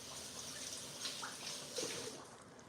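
Tap water runs steadily over about three green onions getting a quick rinse in a kitchen sink while corn chowder is being made, a soft continuous splashing with faint drips, no talking.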